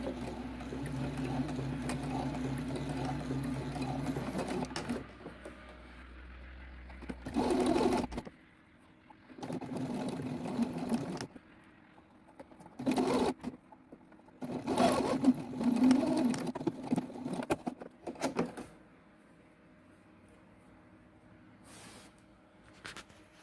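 A sewing machine stitching a seam on fabric runs in several bursts of steady, even whirring, some long and some short, separated by quiet pauses, close and alone with no talking.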